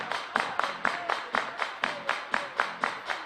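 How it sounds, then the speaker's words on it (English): A baseball crowd claps hands together in a steady, even rhythm, about a dozen sharp claps in a row, moderately close, with no talking. "Everybody clap your hands."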